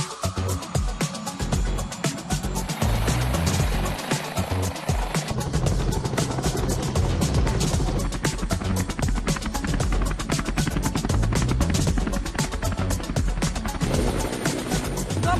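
A helicopter flies over Maharashtra on a long cross-country trip, its dense blade chop and engine roar filling the clip loudly and continuously, with wind noise on top.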